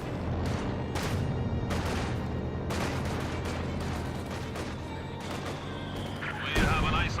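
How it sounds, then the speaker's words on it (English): A mortar barrage strikes a Sherman tank in Company of Heroes 2, with repeated loud blasts and crashing impacts over continuous battle rumble and a final heavy hit. "Mortar does strike the Sherman officer."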